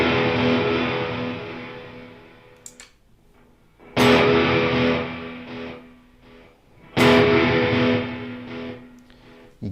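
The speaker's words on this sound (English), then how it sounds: "you get the attack of my guitar tone hitting that reverb and then just the delay repeats passing through" Electric guitar runs through reverb and delay in parallel on a Line 6 HX Stomp: three loud struck chords, each ringing out and decaying into trailing repeats and wash before the next.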